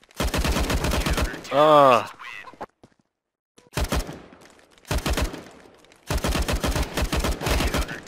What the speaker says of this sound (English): Yo, you shouldn't be shooting me.